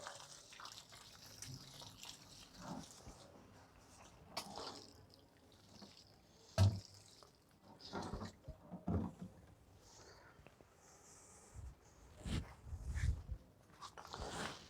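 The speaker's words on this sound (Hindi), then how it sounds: "हम अपने दोनों पौधों में अच्छी तरह से पानी डाल देंगे।" Water is poured into the soil of two potted croton plants after a tea-leaf liquid fertilizer. It comes as quiet, close splashes and drips in uneven bursts, with a few sharper spills.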